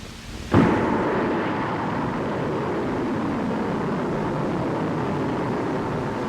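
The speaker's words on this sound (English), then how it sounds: "a powerful Little Joe 2 launch vehicle carried the payload to abort conditions" A Little Joe II launch vehicle lifts off with a sudden loud blast, followed by a sustained broad roar that holds steady and distant-sounding for several seconds.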